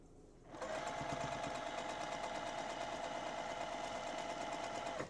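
A sewing machine back stitching a quilt seam starts after a short pause and runs steadily at an even, close, moderately loud whir until the end.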